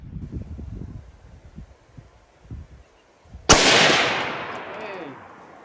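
A Radical Arms 6.5 Grendel rifle fires a single loud, sharp shot at a can 100 yards away on an outdoor range. The report echoes and decays over a couple of seconds, preceded by low rumbling handling noise.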